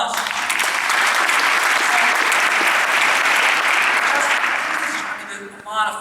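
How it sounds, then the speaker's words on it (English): A business conference audience at Navy Pier breaks into loud, sustained applause that fills the room, then tapers off near the end as a voice begins to come through. "Give him a round of applause."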